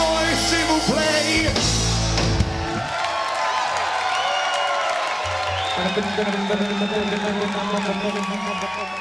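A concert crowd at a rock show cheers and roars loudly over the band's music, a continuous wash of noise under the amplified sound.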